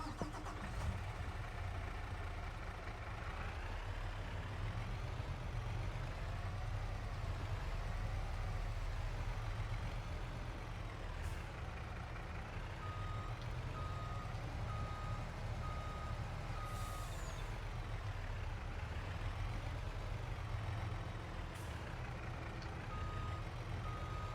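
A truck in Farming Simulator 22 idles with a steady engine drone while its reversing alarm beeps in a regular repeating pattern throughout, loud and close, with no talking.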